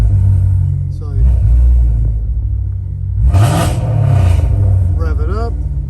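A 2020 Jaguar F-PACE SVR fitted with nitrous and a Pro-Max controller revs loudly up close, the engine drone rising in two swells alongside a person talking.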